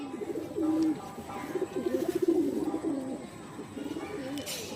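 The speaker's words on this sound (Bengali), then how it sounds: "অনেক বড় পায়রা।" Large Rampuri pigeons coo repeatedly up close, with low, rolling coos in uneven bursts that carry throughout, louder in the middle stretch.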